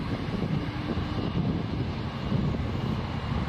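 An American Airlines A320 jet departs Toronto Pearson bound for DFW, its engine roar a steady, broadband rumble heavy in the low end that holds loud and even throughout, with wind noise mixed in.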